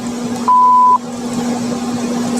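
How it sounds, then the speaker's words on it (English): A single clean electronic beep, a steady tone lasting about half a second, sounds over a low background hum. "Please leave a message after the beep."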